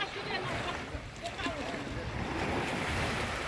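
Sea waves wash onto the shore at a Red Sea beach in Sharm el-Sheikh, Egypt, a loud, continuous surf roar with wind buffeting the microphone and a voice speaking over it.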